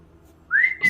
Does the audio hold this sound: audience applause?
no